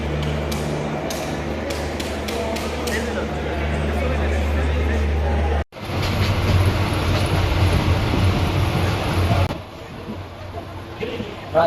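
Mohanagar Express passenger train running, a loud continuous rumble and rattling clatter of the carriages with crowd babble mixed in, broken by an abrupt cut before the noise resumes and then eases slightly.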